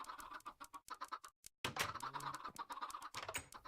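Quick, choppy clucking bursts in rapid succession, like several Minecraft chickens clucking close by, with a brief silent gap midway.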